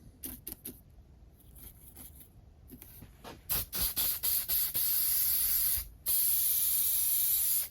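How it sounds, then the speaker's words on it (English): Fixative spray is applied to a model railway trackside cabinet in several short, sharp hissing bursts, followed by two longer sustained sprays close to the microphone. No one speaks. "Fixative spray is all we're going to use."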